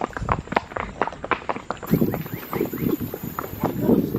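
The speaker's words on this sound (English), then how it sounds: "My horse is just passing all the other horses." Horse hooves clip-clop in a quick, uneven walking rhythm while the animal is ridden past other horses, close and moderately loud, with faint background chatter.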